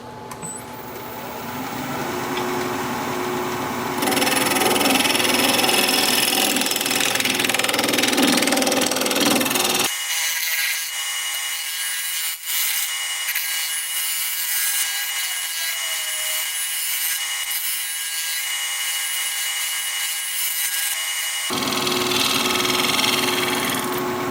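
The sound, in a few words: scraper blending wood on a lathe, wood turning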